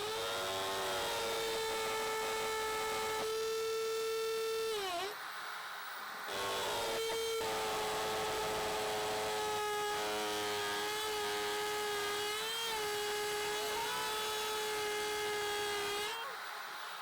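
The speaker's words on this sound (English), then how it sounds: "I've got this concrete drill bit that I got specifically for this" Power drill fitted with a concrete bit boring into concrete, a steady high whining motor tone that dips briefly and stops for about a second midway, then resumes and runs continuously, loud and close.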